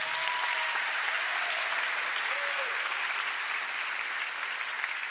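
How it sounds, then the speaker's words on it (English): A large graduation-ceremony crowd at a high school applauds in a steady, dense wash of clapping that holds evenly at a distance throughout. "And now's a good time to do that by your applause."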